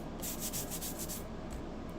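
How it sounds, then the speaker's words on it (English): A craft pumpkin tag is sanded smooth by hand, giving a quick run of about six close, rhythmic scratching strokes, then a pause and two softer rubs. "I'm going to just sand it smooth"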